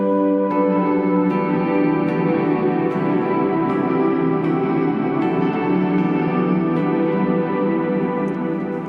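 Electric guitar strums open triads through a wash of ambient reverb and echo, giving a big, sustained, shimmering tone that stays steady and loud throughout with new chords blooming over long decaying tails, no voices present.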